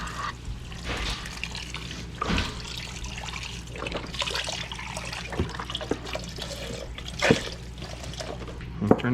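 Beef broth pours into a pot for Sichuan red cooked beef, a steady liquid splashing and trickling that runs close and continuous, with a few louder gurgles along the way.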